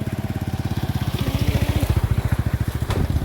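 A motorcycle goes by near a rice field, its engine chugging in a fast, regular pulse that grows louder and stays close throughout.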